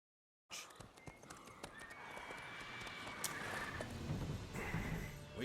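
In The Witcher 3, the horse Roach gallops with steady, rhythmic hoofbeats that build from a sudden start, close and moderately loud, mixed with wind and light ambient game sound.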